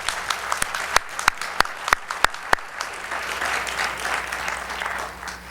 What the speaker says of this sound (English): I want to give our award recipients and honorees a round of applause